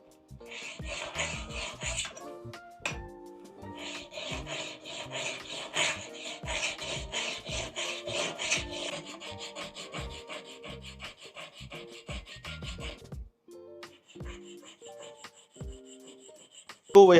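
A router plane blade is sharpened on a diamond plate with long, steady back-and-forth strokes, giving a close, rhythmic metallic rasping scrape that continues for many passes with brief pauses.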